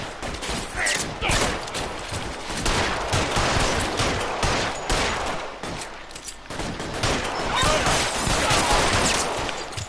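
Rapid gunfire from a shootout in the video game L.A. Noire, dense bursts of shots crackling steadily and loudly through the whole stretch, with a voice talking faintly underneath.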